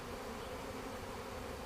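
Package honeybees buzz in a soft, continuous hum while being set out at a hive, a faint, even drone with no voices.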